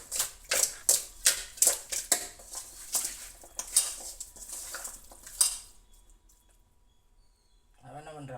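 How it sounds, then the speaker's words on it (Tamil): Raw chicken is washed with turmeric in a pot, with rhythmic sloshing and clattering strokes close up for about five seconds before the sounds fade to near silence. "மஞ்சத்தூள் போட்டு இப்போ நல்லா நம்ம கழுவிக்கலாம்."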